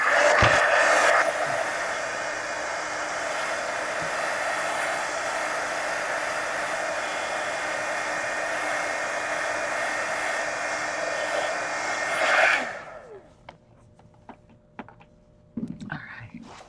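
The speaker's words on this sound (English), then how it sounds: "I think I'm going to go ahead and hit that with the heat gun" A heat gun blows hot air over a mixed media book page in a loud, steady whooshing roar for about twelve seconds, then cuts off. Faint handling noises and light taps follow in the quiet.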